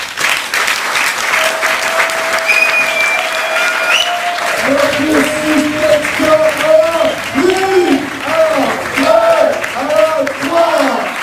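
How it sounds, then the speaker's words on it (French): An audience claps steadily for a poet at a slam poetry competition, with dense applause running throughout while a person speaks and calls out over it. "Applaudissez le poète."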